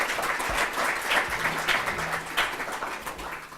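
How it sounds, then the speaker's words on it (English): Audience at the Pasco Chamber of Commerce candidate forum gives a brief round of applause for four candidates: steady, dense clapping at moderate loudness throughout, with no talk over it. "Brief round of applause for all four"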